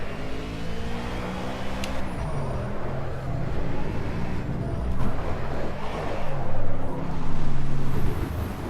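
A Ford Cobra Trans Am race car spinning out at Cadwell Park in Project CARS, its loud engine droning steadily with pitch sweeps and swells of tyre and road noise, continuous throughout with no voices.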